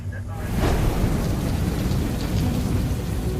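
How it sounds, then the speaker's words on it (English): Heavy rain pours steadily in Guam while a deep roll of thunder rumbles underneath, loud and close, building in the first second then sustaining. "Rain has been hitting Guam on and off all day."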